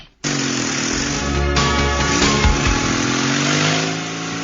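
Motorcycle engine hums steadily while riding, a loud, continuous mid-pitched drone with a slight rise in revs partway through, close and without talk.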